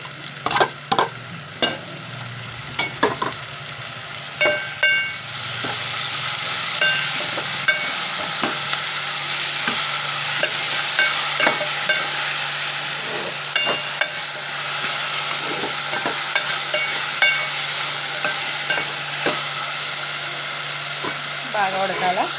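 Two tomatoes fry in a pan for a hot broad-bean curry, a bright steady sizzle running throughout while a spoon knocks and scrapes the pan in frequent stirring strokes, close and moderately loud.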